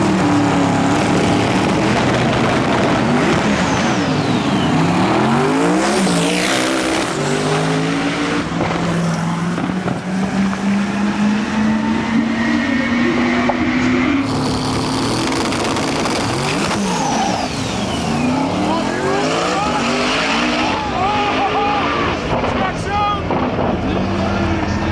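Drag racing cars in the TX2K stick shift class roar down the strip, loud engines rising through gears with wind buffeting and crowd talk underneath throughout.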